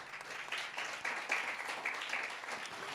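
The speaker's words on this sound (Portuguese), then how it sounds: "Você pode aplaudir Jesus?" A church congregation claps during a sermon, the applause fairly soft and somewhat distant, a steady patter of many hands for a few seconds.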